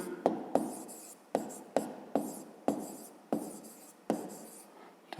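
Pen writing by hand on paper while solving a fifth-grade math exercise, with a series of short scratchy strokes repeating about every half second, close and soft, with no talking.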